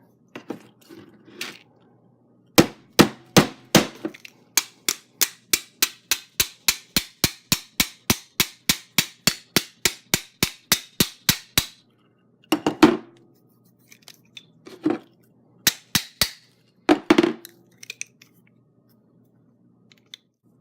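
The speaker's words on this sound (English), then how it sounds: "Now it's time to put in the pins." Roll pins being hammered into the handles of Lee bullet molds, heard as a steady run of about thirty sharp metallic taps in quick, even rhythm, with a few scattered taps before and after, close and loud, with no talking.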